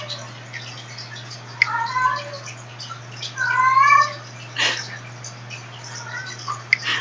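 A pet cat yowls indoors in a few separate drawn-out, wavering cries spaced by quiet gaps, with soft clicks and a steady low hum underneath.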